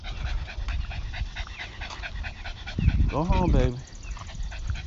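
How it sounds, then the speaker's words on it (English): Dogs panting and whimpering outdoors while one dog chases another, rapid breathy pants with a rising whine near the end, mixed with a person talking. "here go this dog chasing after my dog"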